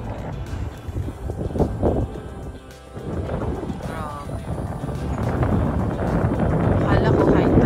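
Strong wind buffets the microphone at Excel Marina in London, with gusty roaring rumble that swells and dips and then builds steadily louder toward the end. A voice speaks briefly.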